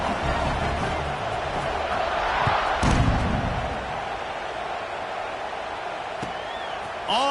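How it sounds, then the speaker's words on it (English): A stadium crowd in the video game NCAA Football 26 roars as a broad, continuous wash of noise with a brief louder swell near three seconds, steady throughout and without clear speech. "this crowd is feeling themselves after that last drive."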